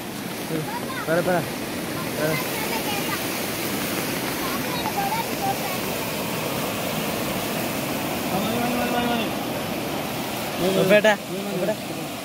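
Continuous rushing water, a broad roaring flow of a flooded river overflowing its banks at Kavilumpara, Kozhikode, with a voice speaking over it now and then.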